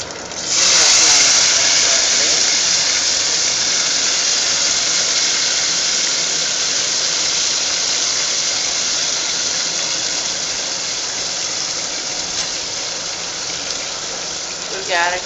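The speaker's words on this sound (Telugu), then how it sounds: "క్యారెట్ ముక్కలను, క్యాబేజీ ముక్కలు, కరివేపాకు, ఆనియన్స్ అన్నీ కలిపేసి ఇందులో వేసేస్తున్నాను అనమాట." Carrot and cabbage pieces, curry leaves and onion are tipped into hot tempering oil for a green gram split curry, setting off a loud, sustained hiss of frying that eases slightly over time, with a clatter at the start and end.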